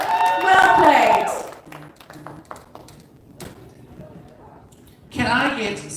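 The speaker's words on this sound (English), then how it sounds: "A round of applause for Madam Poisoner." Applause for a performer at a tea dueling event, with a speaking voice first, then scattered light claps and taps before a louder burst of clapping swells at the end.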